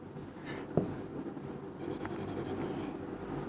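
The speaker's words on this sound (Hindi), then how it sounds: "सी पॉइंट यहां लिखता हूं" A hand writes the letter C on a classroom board, giving short scratchy strokes and taps over about three seconds, close and fairly clear against a quiet room.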